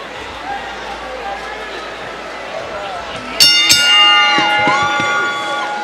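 Boxing arena crowd roaring in a frenzy after ten rounds, a broad wash of cheering under a ringside announcer's talk, with bright ringing tones joining halfway.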